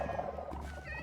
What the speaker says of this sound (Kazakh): Так, мысықтар бар, мына жерде жүре берсін.